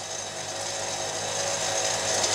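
A kitchen robot churns sugar, salt and flour together, giving a steady, bright mechanical whir that builds slightly in loudness over a couple of seconds, close and continuous with no talk.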